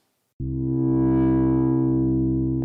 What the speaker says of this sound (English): now we get sounds like this with the filter enabled